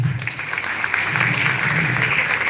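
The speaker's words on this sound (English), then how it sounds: "Please give applause for us." An audience claps steadily, a dense wash of applause holding at an even level for a couple of seconds.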